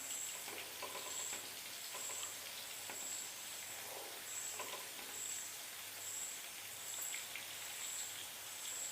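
Ghee rice mixture boiling steadily in a pot, a continuous bubbling, sizzling texture with soft popping, close and moderate in level, with no talk.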